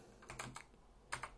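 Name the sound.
typing on a computer keyboard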